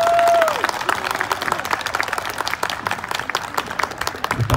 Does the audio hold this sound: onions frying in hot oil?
no